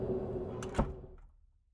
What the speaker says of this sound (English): She scrambled at the door with great effort and shut it again.